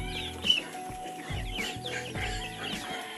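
Rhode Island Red chickens in a free-range poultry house cluck in short, soft bursts close by, with a few brief calls over quiet background rustle.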